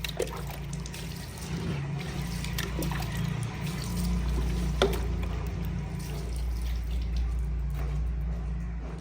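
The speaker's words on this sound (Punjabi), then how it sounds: "ਇਹ ਚੀਜ਼ਾਂ ਨਾ ਮੈਂ ਸਾਰੀਆਂ ਧੋ ਲਈਆਂ" Household items are washed under a running tap in a village home, giving a steady, moderately close gush and trickle of water that continues throughout, with faint clinks as things are handled.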